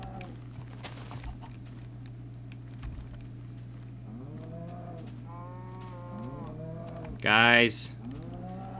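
Blocky Minecraft cows moo several times in a row, drawn-out lowing calls over a steady game hum in the Crafting to the End modpack, with someone talking briefly at the start and a sharp burst of noise near the end.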